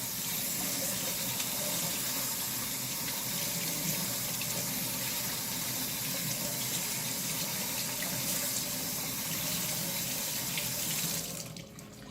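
Bacon is rinsed under a steadily running kitchen faucet into a sink, with a continuous loud splashing flow that cuts off near the end.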